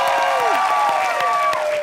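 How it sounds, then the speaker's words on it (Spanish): Studio audience applauding a contestant on a Mexican late-night comedy singing-competition show, a short burst of steady clapping layered over music with sustained tones. "El aplauso para Alejandra."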